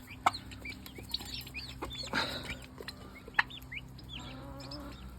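Turkey poults feed on cottage cheese and green onion, with soft peeping chirps and scattered sharp pecking taps, close and fairly quiet.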